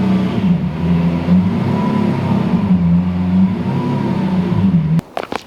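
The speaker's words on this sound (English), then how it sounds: "I'm gonna go get my Aventador and I'm gonna park it right there next to the" Lamborghini Aventador V12 engine running loud and steady with slight rises in pitch as it is parked, cutting off near the end followed by a few brief clicks and clunks.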